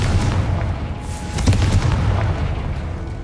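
A Confringo fire spell bursts in Hogwarts Legacy, a loud booming blast that rolls into a sustained rumbling roar for a few seconds with no pause.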